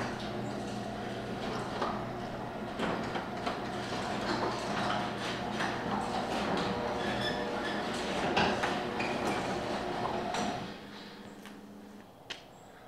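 A residential garage door rattles and rolls open for about ten seconds with continuous clanking and metallic clinks, then the mechanical rumble drops away and the space goes quieter.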